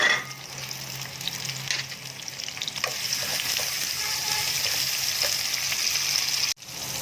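Steady sizzling of onions frying in hot oil in a pan, a continuous crackling hiss with no voices, briefly cut near the end.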